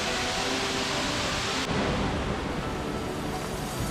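A jungle waterfall near Cusco, Peru, heard as a constant, dense rush of falling water that fills the scene, loud and unbroken, with a sudden shift in tone partway through.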